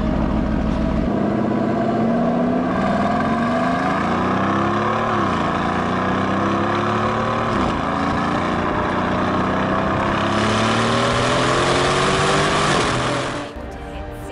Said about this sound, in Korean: 제가 가져온 실제 배기음을 들어보시죠